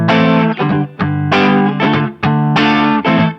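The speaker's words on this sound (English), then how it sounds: "We'll select the small room reverb" Electric guitar with a distorted, effected tone through a Line 6 Firehawk amp modeler plays several sustained chords in short phrases, with a small-room reverb tail, loud and alone.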